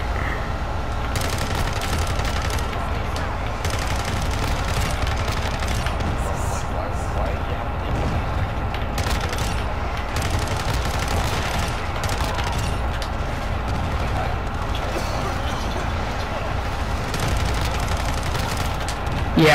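Rapid gunfire from the Hurricane in Call of Duty Black Ops Cold War rattles on a busy, small Shipment map, a dense, continuous crackle of shots and blasts.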